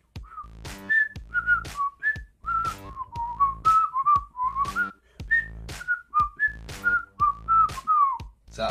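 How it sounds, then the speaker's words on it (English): A person whistles a lively tune alone, with clear, bright notes in short repeated phrases and quick slides between pitches. "Can you whistle?"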